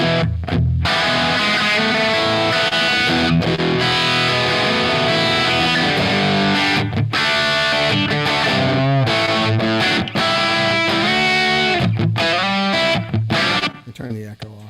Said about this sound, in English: Turn the echo off and just hear the guitar.